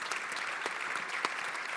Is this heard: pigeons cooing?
no